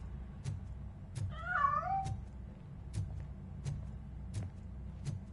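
A cat in the video game RoboCop: Rogue City gives a single clear meow over a low game background, with sharp regular clicks or taps repeating throughout.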